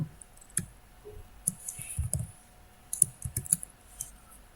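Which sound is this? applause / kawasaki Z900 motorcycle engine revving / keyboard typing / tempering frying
keyboard typing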